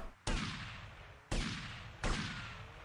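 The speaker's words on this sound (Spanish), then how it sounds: "¿Se escuchó ese balazo o no se escuchó?" Three sharp gunshots in GTA Vice City Remastered crack out at irregular intervals, each a sudden loud burst with a short fading tail, quiet overall and no talk.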